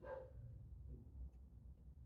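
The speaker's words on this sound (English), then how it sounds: "That's my dog getting really excited." An excited dog barks and yips, loudest in the first half second before the sound trails into a low room rumble, in a quiet indoor home yoga setting.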